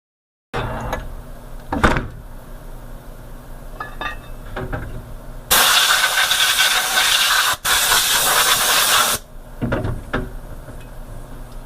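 A CNC machine cuts Porsche center caps, leaving holding tabs, with a steady hissing cut that runs loud for several seconds, pauses briefly and resumes, set among quieter clicks and clanks of shop handling before and after.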